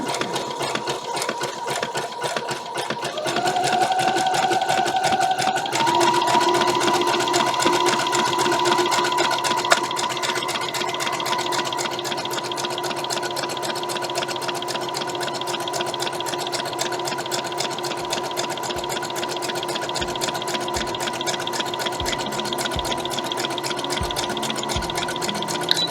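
A sewing machine runs a zigzag stitch along the edge of a vintage Sunbonnet Sue applique block, its steady, close whirring motor hum holding for the whole stretch with no talk.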